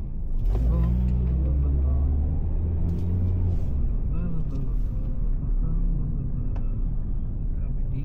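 Road traffic in New Zealand rumbles past, with a heavy engine drone and a brief hiss like an air brake, while a person talks over the noise.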